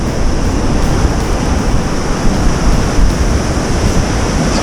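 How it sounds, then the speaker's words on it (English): Ocean surf breaks at a striped bass surfcasting spot, a loud continuous roar of crashing waves mixed with heavy wind noise across the microphone, with no speech. "that's where the waves, the set waves are breaking"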